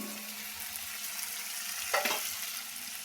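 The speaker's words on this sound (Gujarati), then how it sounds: "રાઈ તતડીને થઈ જાય એટલે એમાં આ લસણને ખાંડી દીધું છે એ નાખી દઈશું." Crushed garlic hits hot oil with crackled mustard seeds, a steady close sizzle that flares briefly with a sharp burst midway, no talk.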